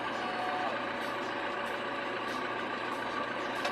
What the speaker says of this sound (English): It's a bulldozer.